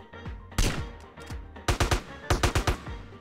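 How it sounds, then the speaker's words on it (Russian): Gunfire in a GTA online game, Criminal Russia, comes as a sharp single shot followed by quick bursts of several shots in a row, loud and punchy against a quiet background. "Нифига, кто шмаляет?"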